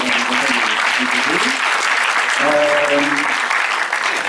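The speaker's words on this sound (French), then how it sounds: "Alors, donc on va applaudir" An audience in a cinema hall claps steadily and loudly after an animated film screening, a dense wash of applause with some voices mixed in.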